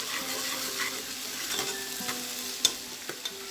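Garlic-ginger paste frying in hot oil for nalli nihari, a steady close sizzle with light stirring scrapes and a couple of sharp utensil clicks near the end, no voices.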